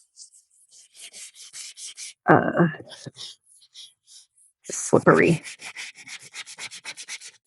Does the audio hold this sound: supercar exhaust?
no